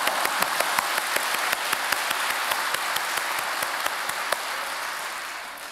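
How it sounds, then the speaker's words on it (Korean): Congregation applauding in a church during a special early-morning prayer service, a dense, steady wash of many hands clapping together with sharper individual claps standing out, fairly near and fading slightly toward the end. "박수를 치려면 화끈하게 칩시다."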